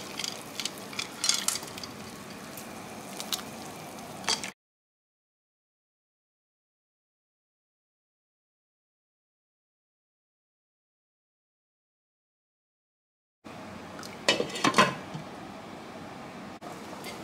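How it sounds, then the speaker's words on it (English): Potato pieces are scooped from a bowl into a pot of boiling water, with clattering utensil scrapes and splashing bursts at the start, a long stretch of silence, then more scooping near the end. "go ahead and just start scooping these out and dumping them into my boiling water"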